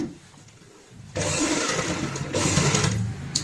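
A sewing machine runs a steady, continuous stitch along the fabric of a handmade cloth purse, holding a half-inch seam allowance. It starts abruptly after a quiet second and keeps a close, even mechanical whir.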